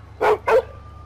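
A dog in the LEGO City Undercover video game gives two quick, loud barks in close succession, heard alone and up close.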